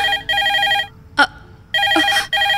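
A telephone rings in a Odia film scene with two bursts of repeated electronic ringing separated by a pause, with a brief short voice sound between them; loud and close.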